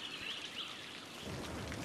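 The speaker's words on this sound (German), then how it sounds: "Toll, es regnet schon wieder." Steady rain falls in the city-building game Cities: Skylines, a continuous soft hiss of drops with faint chirping above it, even and moderately quiet throughout the short stretch.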